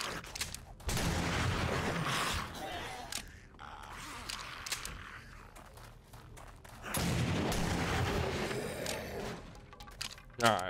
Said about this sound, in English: I'm just gonna start using my guns.